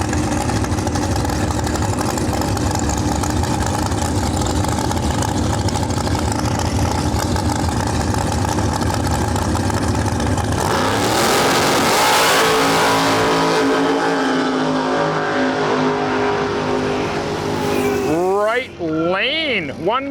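Nitrous-fed Camaro and C5 Corvette launch down a drag strip at a heads-up race, a loud, sustained engine roar that swells sharply midway, with a commentator talking over it near the end.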